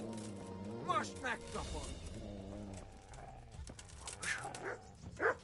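A dog barking and growling in the medieval video game Kingdom Come: Deliverance, a few close yelps and snarls mixed with someone talking over the fight.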